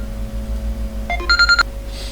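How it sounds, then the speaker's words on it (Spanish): A telephone rings in a quiet room with a steady background hum, a brief electronic ringtone burst of a few pulsing tones lasting under a second. "me han llamado por teléfono"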